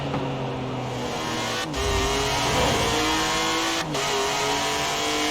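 Racing-game car engine driven with a Thrustmaster TMX force feedback wheel, revving loudly and steadily with shifting pitch, a heavy low thump near the middle and brief dips around gear changes; no talking.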